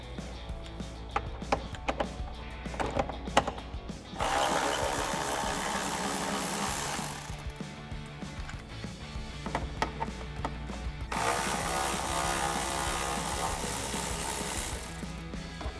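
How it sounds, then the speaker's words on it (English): Socket ratchet clicking as 8mm and 10mm bolts come off a Jeep Wrangler JL during a parking/turn signal light install, with rapid close ratcheting bursts and steady stretches of continuous clicking, no talk. "So our first step is going to be to come in with an 8mm socket and a 10mm socket."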